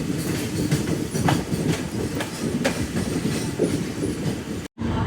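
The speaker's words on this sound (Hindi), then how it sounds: "उत्तर बंग एक्सप्रेस हमें क्रॉस कर रही है।" The Uttar Banga Express rolls past on the adjacent track, a continuous loud rumble with rhythmic wheel clatter, heard from close alongside during a rainy train journey.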